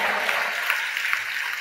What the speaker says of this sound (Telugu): మిగిలిన వాళ్ళు చప్పట్లు కొట్టి దేవుని మహిమపరుద్దాం